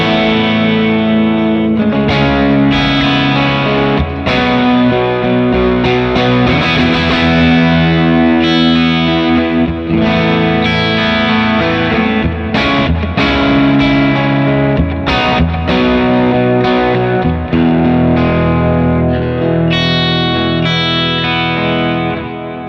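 Electric guitar played through an HX Stomp with delay and reverb, a loud continuous wash of sustained, effect-laden chords whose echoes overlap and linger throughout, with no voices.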